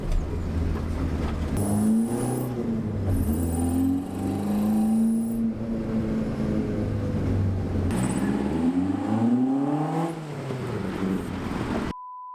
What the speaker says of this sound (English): You can't beat the sound of a crossflow on carbs.